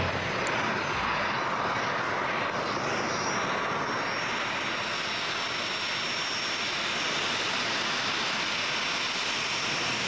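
Steady, loud roar of an Easyjet airliner's engines at Liverpool airport, a continuous broadband rush holding evenly throughout with no voices.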